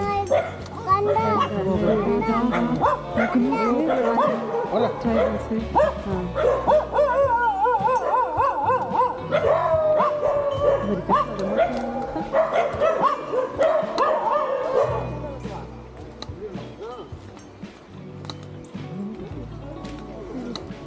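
Dogs kept at a tribal hut settlement in the Idukki forest bark and yelp under lively voices of children and adults, the whole din fading somewhat toward the end.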